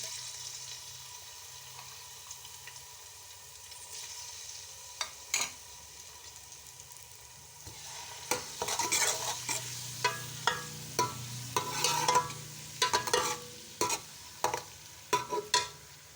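Quiet kitchen sounds give way to loud sizzling as garlic and ginger hit hot oil, followed by repeated sharp scraping and stirring clicks.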